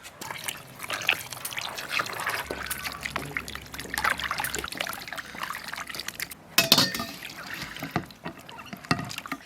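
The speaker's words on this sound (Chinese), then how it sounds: "排骨炖好了，加点水洗一下。" Water poured over stewed pork ribs in a kitchen to rinse them, heard as splashing, trickling and dribbling that runs on and off for several seconds, fairly close, with clattering of the ribs and container and no talking.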